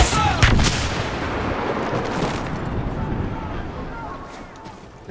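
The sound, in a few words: rifle gunfire in a Star Wars video game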